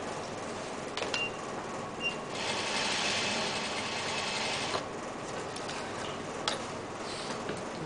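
Sewing machine stitching along a zipper, a steady fast mechanical whir with faint ticking, a brief louder burst midway and a few small clicks, heard close and alone.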